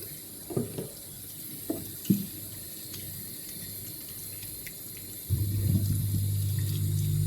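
Lukewarm water runs from a tap in a home workshop where a Yamaha SR 250 motorcycle airbox is being restored, the steady flow starting partway through and continuing, with a few clunks before it.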